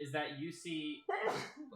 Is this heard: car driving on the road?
no